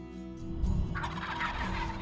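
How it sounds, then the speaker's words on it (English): A male wild turkey lets out a loud, rapid, rattling gobble partway through, over a steady low background hum. "male turkeys produce a loud and unique vocalization called gobbling."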